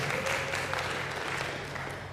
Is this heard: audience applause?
yes